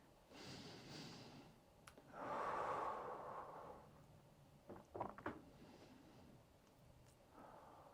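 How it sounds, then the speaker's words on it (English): Slow breathing during a calm movement-flow workout cool-down: a long, fairly loud exhale in the middle, softer inhales and outbreaths around it, with a few small clicks and shuffles between breaths. "Breathing in through the nose, out through the mouth."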